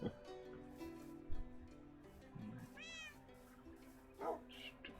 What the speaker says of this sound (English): The cat was meowing.